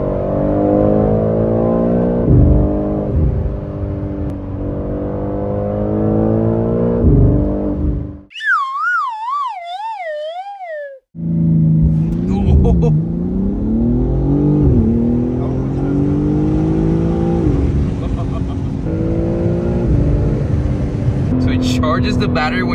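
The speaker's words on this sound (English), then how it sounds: "we can do a couple accelerations on that car and then compare it to this car" A BMW M3 Competition accelerates hard on wet pavement, its engine note climbing through rising revs and gear changes, loud and close from the cabin, with talking over much of it and a brief quiet gap midway.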